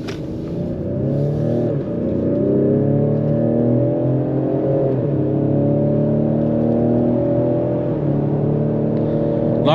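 A 2021 Ford Explorer ST AWD with the high-performance brake package accelerates hard from inside the cabin. Its engine note climbs steadily in pitch, drops briefly at each quick gear change, then climbs again.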